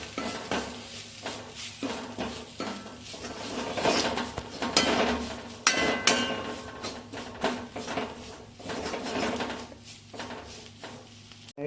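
A spice mixture is stirred in a pan while chapati noodles are being made, with close, repeated scraping and clinking of a utensil against the pan in an uneven rhythm and a faint sizzle underneath.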